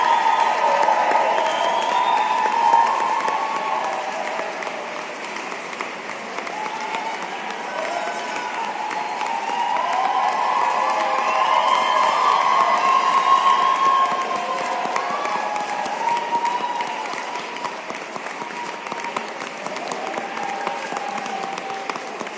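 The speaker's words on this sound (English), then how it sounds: "Please join me in a round of applause" Sustained applause and some cheering fill a hall as a graduation audience claps for public administration graduates, loud and continuous with swelling and easing waves.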